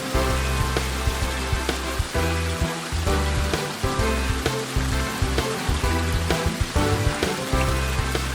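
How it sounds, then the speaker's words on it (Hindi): Noori Waterfall in Haripur District pours down like heavy rain, a dense, continuous roar of splashing water close by, with a pulsing rhythm of surges and no voices. "बारिश की तरह बरसते इस पानी को खूब एंजॉय करना चाहिए"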